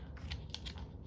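Scissors cutting through a folded long sleeve of fabric, a few soft crunching snips in quick succession, close and quiet.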